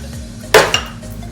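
A whole egg and an extra yolk being mixed in a bowl for chocolate lava cake batter, with a utensil giving two sharp clinks against the bowl over a quiet background.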